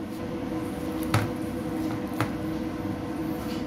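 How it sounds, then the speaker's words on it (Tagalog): Beef marinated with cornstarch being kneaded by hand, a soft, steady squishing with two brief sharper slaps along the way. "Tapos lamasin lang natin yan."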